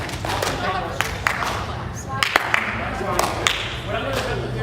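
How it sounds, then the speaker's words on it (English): An audience at a convention panel claps in short, sharp bursts used as a quiz buzzer, with scattered single claps under a host's ongoing talk. "I want you guys to clap like that. That should be your buzzer."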